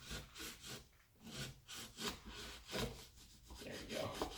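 A towel rubbed back and forth across a Onewheel board to clean off dirt gives steady, close, scratchy strokes in a rough repeating rhythm with no talk.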